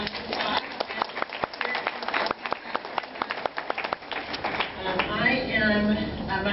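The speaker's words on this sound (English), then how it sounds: "Congratulations very much to you. Another round of applause." A small group claps for cosmetology graduates at a certificate ceremony, scattered distinct claps at first, then fading as a voice speaks.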